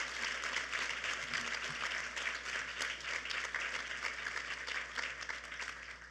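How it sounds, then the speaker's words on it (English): Steady, dense applause from an audience fills the room for a speaker at a panel on Senior Corps and independent living, continuous and fairly loud throughout. "please join me in giving her a well-deserved round of applause for her leadership"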